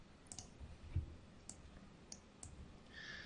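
A computer mouse gives several faint, sharp clicks spaced about half a second apart in a quiet room, each one brief and isolated.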